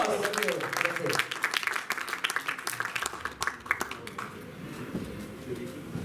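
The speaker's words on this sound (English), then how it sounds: "Give me a round of applause." Audience applause and cheering at the KL JAMM music festival in Kuala Lumpur, a crowd clapping steadily after a performance, with a host's voice heard briefly over the noise at the start.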